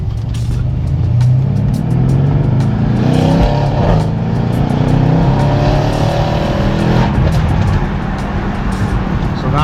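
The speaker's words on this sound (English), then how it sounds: "So then it starts to do the cracks and burbles and all that stuff." Mercedes C63s fitted with downpipes, in Sport Plus mode, its exhaust roaring loud and steady with crackles and burbles popping through the drone, close by.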